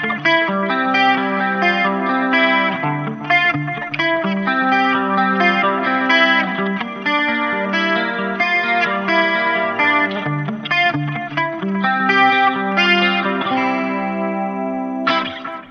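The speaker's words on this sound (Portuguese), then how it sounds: "O delay, como ele é um delay mais quentinho, ele só preenche e não embola." Clean electric guitar melody, compressed, with a soft, warm delay trailing each note, played continuously and fairly loud, no voices.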